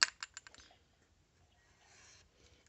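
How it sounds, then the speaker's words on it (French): A corner cutter trims the corners of wooden boards for a scrapbook album cover, giving a quick run of four or five sharp, quiet clicks at the start before near silence. "Je prends mon outil pour les coins et je viens tout simplement couper mes coins comme ceci."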